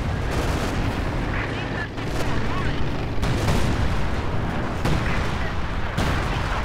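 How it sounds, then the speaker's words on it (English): Artillery bombardment in Company of Heroes 2, set on a winter Rzhev map, with shells falling on a Panther tank: continuous loud rumbling blasts and sharp impacts throughout, mixed with game noise. "Gonna bombard the Panther on the left."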